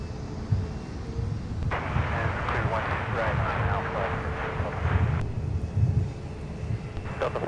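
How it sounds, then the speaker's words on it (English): A Delta Airbus A321neo arriving from Los Angeles lands at Minneapolis–Saint Paul airport, its broad, roaring jet rumble swelling in the middle and then easing, heard from a distance over constant wind buffeting. "Kissing the pavement, coming in from the City of Angels, Los Angeles, California, with a 321 neo."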